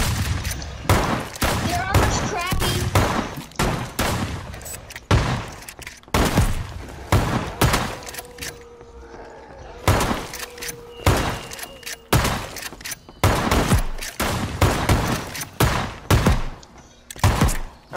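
Rapid bursts of video game gunfire crack repeatedly in close, dense volleys while players talk over the shooting, with a short lull midway before the firing resumes.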